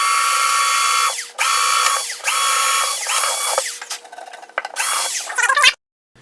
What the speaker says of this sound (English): now I'm going to drill the hole right here in the corner